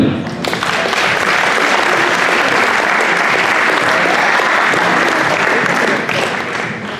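Audience at a diploma award ceremony breaks into loud, sustained applause, dense clapping from a large crowd that holds steady for about six seconds before tapering off.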